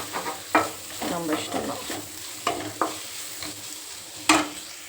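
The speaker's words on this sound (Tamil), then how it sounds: "நான் குழம்பு மிளகாத்தூள் ப்ளஸ் கொஞ்சம் மல்லித்தூள் ஆட் பண்ணி இதை நல்லா வதக்கிக்கிறேன்" Kuzhambu chili powder and coriander powder are sautéed in a pan for a kovakkai curry. Stirring scrapes and sharp sizzling bursts come in uneven strokes, with a short spoken remark partway through.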